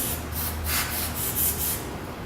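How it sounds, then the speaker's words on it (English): RustCheck rust-proofing sprayed through an extension straw inside a car fender, a steady close hiss with a few slight pulses, heard alone. "I've got the extension straw in, so I'm going to try and get as much into the fender as I can."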